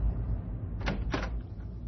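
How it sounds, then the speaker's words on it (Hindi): A door opens with two short, rattling clacks close by over a low background hum. "दरवाजा खुला"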